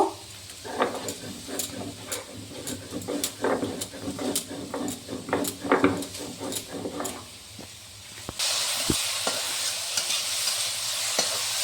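Brinjal and foli fish paste being stirred in a frying pan, a spatula scraping in repeated strokes over a steady sizzle, with the frying hiss swelling louder near the end.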